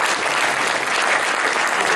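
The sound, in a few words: audience applause for the experts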